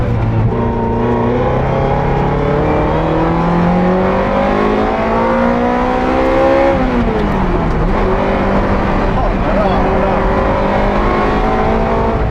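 A Ferrari F355 Challenge race car engine drones loudly and continuously, its pitch climbing steadily under load, dipping briefly, then rising again, close up and with no other sounds.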